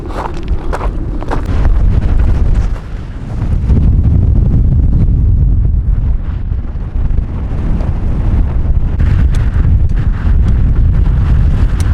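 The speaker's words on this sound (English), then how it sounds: "Pretty windy." Strong mountain wind in the High Sierra buffets hard and close, a loud continuous roaring rumble with gusty surges and no voices.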